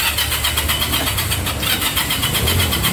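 A used motorcycle engine at a Vietnamese motorbike shop runs steadily and fairly loud after being started, with a continuous mid-pitched rumble and no talk over it.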